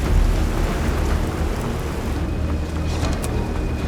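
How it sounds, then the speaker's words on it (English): A motorboat sets off across Puget Sound amid steady, loud water and engine rumble, a continuous low wash with no voices over it. "Ellie hops in the boat, starts it up, and sets off into Puget Sound"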